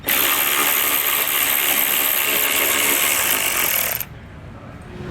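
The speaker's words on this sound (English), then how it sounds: "So now we can go ahead and remove our 5 bolts." A power tool whirs loudly and steadily up close while the five bolts holding a vehicle's hidden rack receiver hitch are removed, then stops abruptly and leaves a quieter background.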